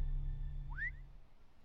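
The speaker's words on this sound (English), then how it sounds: "That's not how you whistle, but yeah." A single short rising-and-falling whistle sounds once over a low steady hum, faint and brief.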